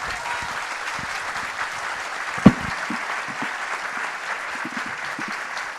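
A large crowd applauds steadily at a presidential candidates' debate, a dense wash of clapping with one sharp knock partway through.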